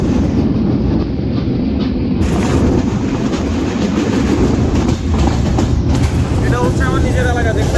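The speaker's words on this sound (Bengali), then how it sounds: "আর আমাদের নীলসাগর এক্সপ্রেস ঝড়ের গতিতে ছুটে চলেছে" Nilsagar Express passenger train running fast on rails, a steady loud rumble of wheels and carriages throughout with a faint clatter, no talk.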